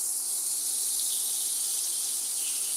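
Lemon pepper and paprika seasoned catfish pieces sear in hot oil in a small skillet, giving a steady, loud, bright hiss and sizzle that holds constant from start to finish with no voices.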